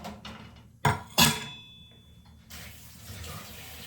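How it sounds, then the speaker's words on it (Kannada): A pressure cooker is washed with tamarind under running water: the tap runs with a steady splash, two sharp metallic clanks of the cooker come early, then the water flows on more broadly. "ಒಂಚೂರು ಹುಣಸೆ ಹಣ್ಣು ಫಿಲ್ಟ್ರ್ ನೀರಲ್ಲಿ ಕುಕ್ಕರ್ ತೊಳಿತಾ ಇದ್ದೀನಿ"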